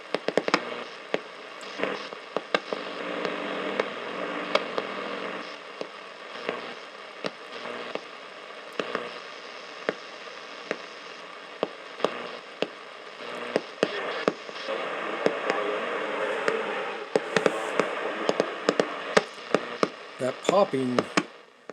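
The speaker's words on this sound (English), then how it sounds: "That popping sound you hear is from some electrical line out here somewhere." Sharp, irregular popping and crackling from an electrical power line keeps going over a hissy, windy background. Some pops are loud and close, others faint.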